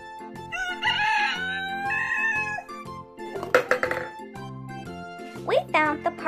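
A toy rooster gives a bright electronic crowing call, rising and falling in pitch, over bouncy children's music, followed by a second shorter crow near the end.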